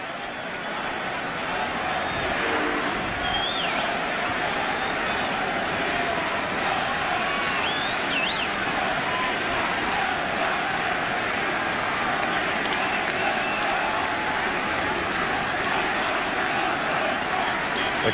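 A baseball stadium crowd at a 2001 Mariners ALCS game chants "We want Nelson," heard as a dense, loud, steady roar of many voices that holds for the whole stretch.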